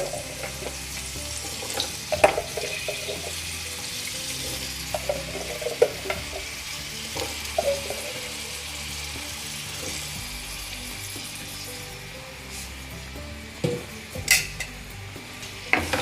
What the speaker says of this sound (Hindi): सारे आलू को इसमें मैं फ्राई पैन में डाल दूँगी।